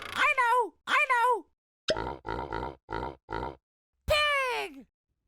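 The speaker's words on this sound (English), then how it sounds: "Pig!" A pig makes a quick run of short, clipped grunts in a steady rhythm, with longer squealing grunts before and after, loud and close.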